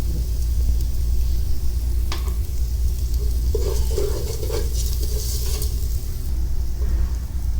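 Red pepper, garlic and mixed spices sizzling and frying in a pan for chicken stew, with steady crackle over a low rumble of the burner and occasional scraping of a spoon stirring.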